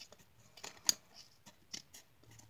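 Scissors snip something off in a few quiet, sharp cuts spread across a near-silent moment, each click close and brief.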